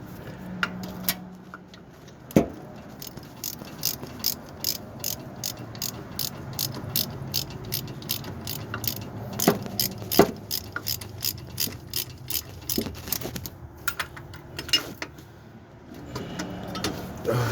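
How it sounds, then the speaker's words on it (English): An electric ratchet whirs and clicks steadily while turning an alternator bolt on a 1979 Ford F-100 with a 4.9L engine, a close, continuous mechanical ratcheting with brief pauses and louder bursts. "Electric ratchet, that's what it's called."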